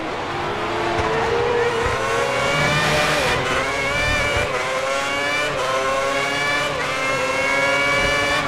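Renault R30 Formula 1 car racing in the F1 2010 video game at the Hungary circuit, high-pitched engine screaming loudly and continuously with rising and falling revs through gear shifts.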